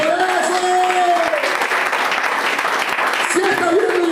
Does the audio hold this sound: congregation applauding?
yes